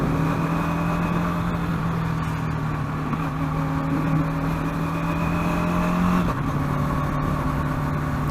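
A Bajaj Dominar 400 motorcycle engine, still in its running-in period, hums steadily at moderate revs at night, with a constant drone and a slight pitch shift near the end, recorded close up while riding.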